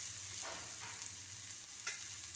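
Dried anchovies, tomato and onion sizzle quietly in a pan as they are stirred, making a steady low fry with a few soft scrapes of the spoon.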